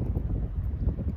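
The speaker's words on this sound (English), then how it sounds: "Sorry about the wind." Wind buffets the microphone on a fishing boat off Sanibel, giving a loud, low, rumbling roar that gusts unevenly throughout, with no talking.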